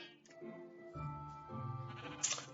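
Sheep bleating in the Minecraft-like game Hungry World, a few drawn-out in-game bleats overlapping one another at moderate loudness, with no talk over them.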